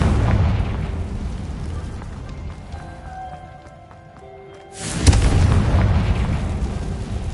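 A booming magical blast from the Confringo curse in Hogwarts Legacy bursts loudly after a quieter lull, its rumbling roar filling the scene after a shouted spell.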